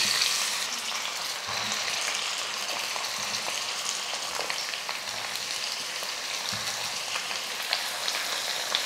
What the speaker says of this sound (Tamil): இப்போ இதில் காயை சேர்த்துடலாம்.